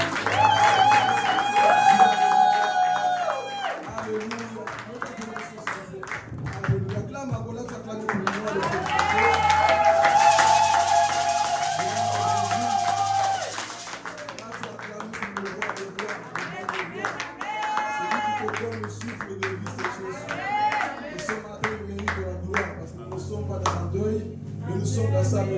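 A church congregation applauds and acclaims God with steady clapping under loud, sustained voices calling out and singing across the whole stretch.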